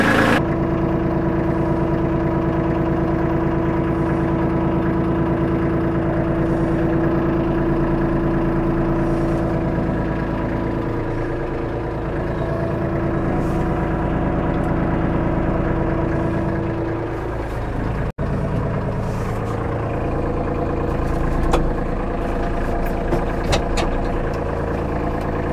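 A Kubota tractor with its loader detached runs at a steady idle while backing up, a continuous mid-low engine drone heard close and alone with a faint click near the end.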